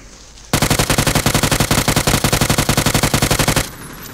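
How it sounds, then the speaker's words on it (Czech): Automatic rifle fire in PUBG with a red dot sight, a single long, loud, rapid burst of evenly spaced shots lasting about three seconds, with no talking over it. "při střelbě."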